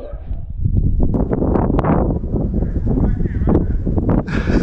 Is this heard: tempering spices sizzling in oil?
no